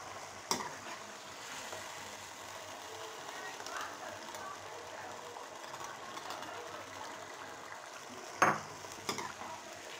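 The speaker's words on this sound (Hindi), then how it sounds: "अब इसको अच्छी तरह मिक्स कर लेंगे।" A spoon stirs yogurt into mashed tomatoes in a pan for chicken karahi. The sound is a quiet, steady scraping and sizzling, with a couple of sharper clinks near the end.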